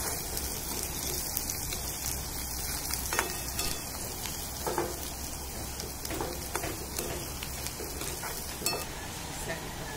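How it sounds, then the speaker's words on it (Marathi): Browned onions, onion greens, peanuts and chillies stirred while frying in a kadai over a wood-fired stove: a quiet, continuous sizzle with scattered soft pops and scraping strokes, close by and steady throughout. "आता आपण त्याच्यामध्ये कांद्याची पात टाकून घेणार आहोत आणि छान हलवून घ्यायचंय आपण त्याला"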